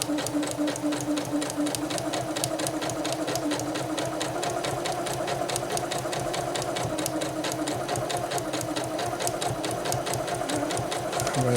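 A Janome 8077 sewing machine stitches steadily at close range, its rapid, even needle chatter running unbroken from start to finish with only faint voice traces beneath.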